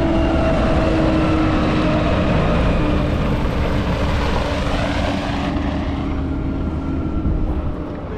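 A New Holland T6 diesel tractor drives past outdoors at a demonstration event, its engine a loud steady drone that shifts in pitch as it passes and fades slightly at the end.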